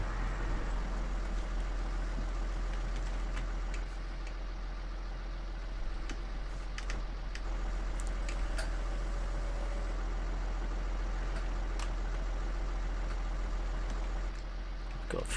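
A tractor engine in Farming Simulator 19 running steadily with a low, constant drone, at moderate distance and without pauses, beneath faint scattered clicks.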